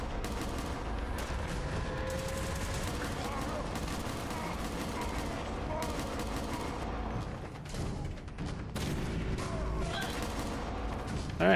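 Sustained gunfire rattles down a corridor in Fallout 4, dense overlapping shots and bursts filling nearly twelve seconds with a brief lull near the end before firing resumes.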